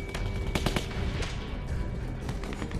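Rapid machine gun fire in The Walking Dead Season 2 game, a dense stream of loud, close bursts with sharp repeated reports over continuous rumbling noise.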